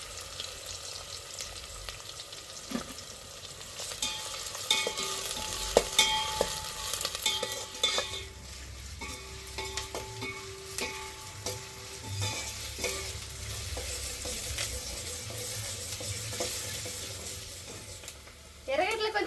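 Sliced onions fry with curry leaves in a pan: a continuous moderate sizzle with irregular stirring clinks and scrapes, plus faint tonal background sounds, and no speech.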